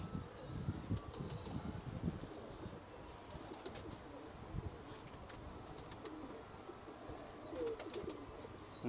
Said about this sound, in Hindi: बड़े तेज तराज कबूतर है